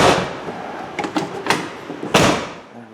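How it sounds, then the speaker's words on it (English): A car door fitted with new, stiff door seals is pushed shut, giving a few light knocks and then one firm, loud thud near the end, close by with no talk. "She's a little stiff to close just because it's got new door seals on it."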